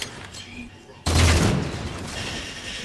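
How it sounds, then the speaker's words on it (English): Assault rifle gunfire from Halo 4 erupts suddenly and continues as a loud, dense rattle of rapid shots that sustains to the end, following a quieter stretch of game ambience. "I'm gonna go ahead and switch over to the assault rifle now."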